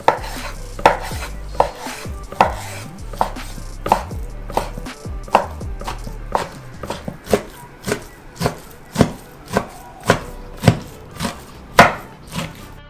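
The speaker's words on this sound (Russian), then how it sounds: "И рубим все это ножом, превращая в рубленый фарш." Steady knife chopping beef into mince on a board, roughly twenty sharp close thuds at a brisk even rhythm, with no talking.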